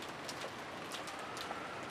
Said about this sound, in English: the raindrops pounding down were cold